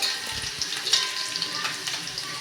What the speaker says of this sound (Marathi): त्यामध्ये भरपूर सारा आपल्याला बारीक चिरलेला लसूण घालायचा आहे लसूण पण छान सोनेरी रंगावर परतून घ्यायचं आहे